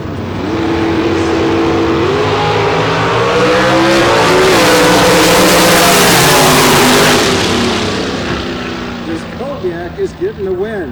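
A dragster powered by a 425 cubic inch small block races down the strip at a nitro drag meet, its loud engine roaring steadily for most of the run before fading, with a commentator talking over it.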